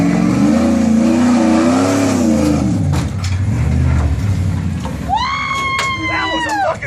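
An off-road vehicle climbing a waterfall revs its engine hard and pulls a wheelie. The engine roars close and loud, rising and falling, while voices shout and cheer over it.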